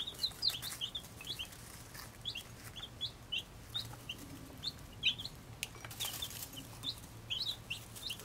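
Baby Brahma chicks, buff and dark, peep in a steady scatter of high, thin chirps at moderate distance, many small calls overlapping throughout.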